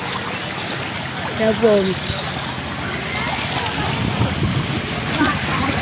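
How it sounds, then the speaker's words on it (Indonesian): Fast-flowing tidal flood water rushing through Sabak Timur toward areca palm plantations, a steady broad wash of current that runs unbroken throughout, with a few brief voices speaking over it. "Banjir yang terjadi ini cukup deras, Tribuners. Kita lihat dari arus yang mengalir."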